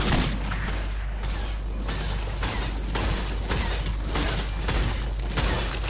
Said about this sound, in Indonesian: Ada tembakan dari jarak jauh.